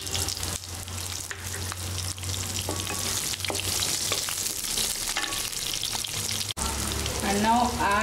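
Onions added to hot oil with peanuts in a pan for a brinjal curry, giving a loud, steady sizzle and frying hiss close to the microphone, with stirring scrapes and a brief jolt of louder crackling near the end.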